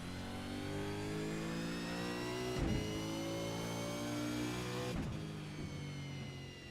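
A race car engine on the straight at Zandvoort in a racing video game, a continuous high revving whine that climbs through the gears with two brief dips for upshifts, loud and alone.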